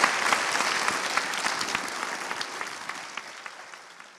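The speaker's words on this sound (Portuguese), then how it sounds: "eu queria pedir uma grande salva de palmas para a Alessandra Colasanti" Warm audience applause for a poetry reader stepping onstage at a talk event, dense clapping at full strength at the start and slowly thinning toward the end.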